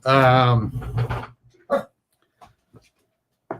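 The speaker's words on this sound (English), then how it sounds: "I'm going to close my window here because my dog is barking." A dog barks nearby in a few short, sharp yaps, mixed in with a voice and quiet gaps.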